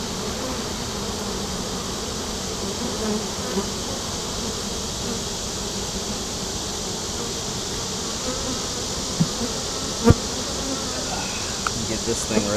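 Honeybees swarm around a very full beehive on a farm, giving a steady, dense buzzing drone that lasts throughout. A few faint knocks and clicks are heard near the end.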